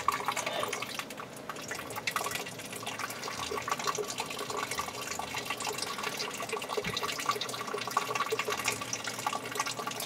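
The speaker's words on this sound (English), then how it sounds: "So it's simply you unscrew it, and then the water will come out." Water gushing steadily from an unscrewed bleed-off valve on a sprinkler system line being drained for winter, a continuous close splashing rush with dripping, no talk.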